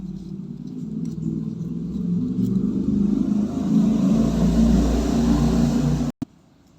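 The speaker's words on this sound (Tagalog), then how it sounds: "Medyo may dumaang motor." A motorcycle passes by on a street outside, its engine rumbling low and steady, growing louder over several seconds before cutting off abruptly near the end.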